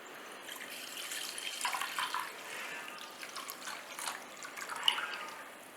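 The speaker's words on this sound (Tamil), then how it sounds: "இப்போ இந்த 1/2 லிட்டர் பால் இதில் சேர்த்துடலாம்." Milk pours into a pot holding a little water on the stove while making paneer, a soft, close, continuous liquid trickle with gentle splashing swells and no talk.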